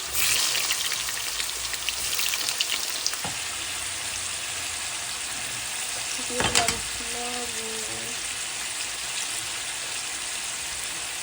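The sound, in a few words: frying onions and spices in a pan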